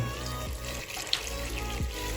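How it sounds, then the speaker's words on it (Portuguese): Two litres of water poured into a cooking pot of vegetables, a continuous close splashing gush over a low background hum, with a brief clink partway through. "Então eu vou colocar aqui 2 litros de água"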